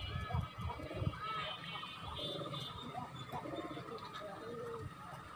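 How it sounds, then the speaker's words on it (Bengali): A pigeon coos softly a few times amid a busy, noisy background, partly masked by people talking nearby. "নতুন পায়রা মনে হচ্ছে গাইস"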